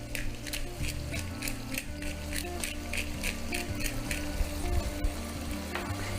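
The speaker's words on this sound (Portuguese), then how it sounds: "Então eu vou fritando aqui, vou esperar esse frango ficar pronto" Pieces of chicken frying in a pan seasoned with salt and black pepper, a steady close sizzle with crackling pops and occasional stirring clatter, no talking.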